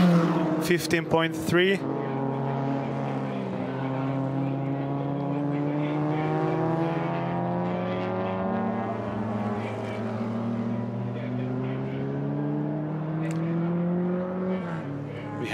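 Race car engine at the Hungaroring sweeping through the final long corner and across the line, a loud steady high-revving wail with slowly bending pitch, preceded by brief sharp gear-change bursts, under a commentator's voice.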